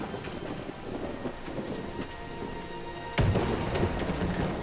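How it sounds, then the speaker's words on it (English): Thunder cracks suddenly out of steady rain in a marshy video game setting, a sharp loud burst followed by a rolling rumble while the downpour continues throughout. "Oh, lightning strike over there."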